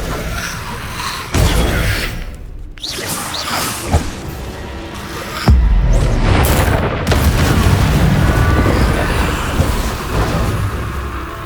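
Incendio fire spell blasts burst in the Hogwarts Legacy video game with repeated loud booming whooshes. A sharp hit comes early, then a heavier roaring blast continues in sustained fiery crackle to the end.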